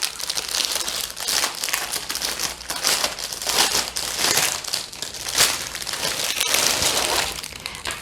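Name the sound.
crinkling of gift packaging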